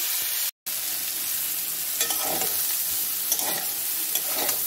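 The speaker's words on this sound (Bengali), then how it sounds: "এঁচড়টা ভাজা হয়ে গেছে বন্ধুরা" Raw jackfruit sizzles in a frying pan, a continuous near hiss and crackle broken by a brief gap near the start, with some faint stirring scrapes and no one speaking.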